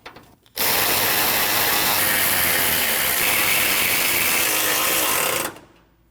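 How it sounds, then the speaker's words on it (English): A power tool tightens the bolts on a radiator cooling fan blade of a 2012-2021 Nissan NV2500 5.6L V8, giving a steady, loud mechanical whir of about five seconds that starts and stops abruptly. "Tighten down our bolts."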